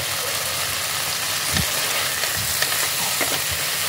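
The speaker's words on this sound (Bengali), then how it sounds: "সবজিগুলো বেশ ভালোভাবেই ফ্রাই করা হয়ে গেছে।" Broccoli and mixed vegetables frying in a pan, a loud, dense continuous sizzle with occasional stirring scrapes and soft thumps close by, no speech.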